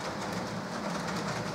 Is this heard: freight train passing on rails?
yes